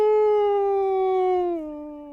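A single long, clear dog howl holds a steady pitch, then drops lower near its end and fades. It stands alone in a quiet background, used as a mournful salute to the dog's dead master.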